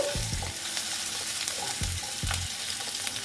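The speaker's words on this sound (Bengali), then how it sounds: "আলুগুলো ভেজে নেব আমি একবারই বসিয়ে দিচ্ছি" Potatoes fry in a pan for a mulor ghanto radish curry, with a steady sizzle broken by several scraping stirs against the pan.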